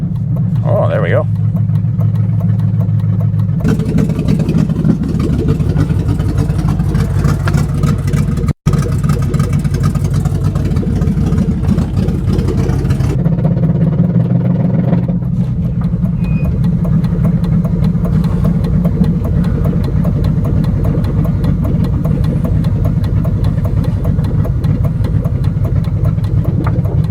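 A 2000s Audi S4 with a broken-down history idles loudly up close, a continuous low engine rumble with a brief dip and a change in tone partway through as it settles into a steady idle.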